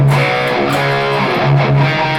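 A distorted electric guitar riff mixes chordal stabs with palm-muted chugs on the low strings and single notes, played loud and continuous with no voices.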